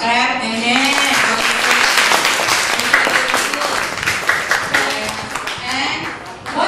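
Applause from students clapping their hands in a classroom, a dense, steady patter that carries on throughout with voices mixed in.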